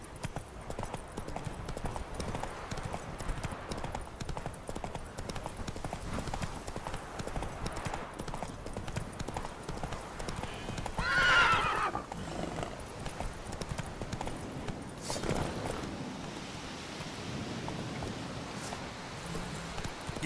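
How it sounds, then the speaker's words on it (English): In The Witcher 3, a horse gallops with steady, rapid clip-clopping hooves throughout, joined by a brief neigh partway through, close and moderately loud over a soft game backdrop. "Run, Roach."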